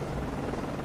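A ship-launched helicopter in the naval video game Cold Waters, a steady close whirring rotor drone with a continuous broadband rush, alone without talk.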